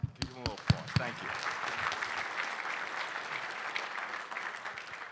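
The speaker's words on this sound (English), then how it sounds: "give them a little applause" A conference audience at the AWS New York Summit applauds its speakers. A few loud, close claps open it, then the dense patter of a crowd clapping runs steadily and fairly quietly to the end, with some talk near the start.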